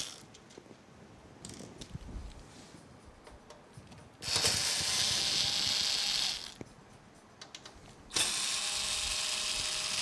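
Screws being driven out of a PC case with a ratcheting power driver during a RTX 5090 build: two long, loud bursts of whirring ratchet clicks with a quieter pause between them, no talking.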